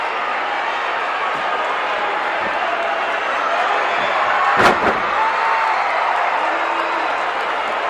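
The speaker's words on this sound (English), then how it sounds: "here is another one of those smashing body slams by Jim Neidhart" A professional wrestler's body slam lands on the ring mat with one sharp, loud thump amid a steady roaring arena crowd and a commentator talking throughout.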